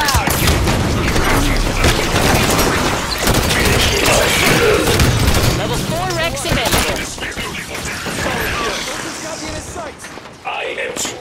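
Dense battle gunfire in Halo 5 Warzone Firefight, with loud, rapid automatic bursts, heavy booms and energy-weapon shots layered almost continuously for about eleven seconds, easing off near the end, while voices talk over the fighting.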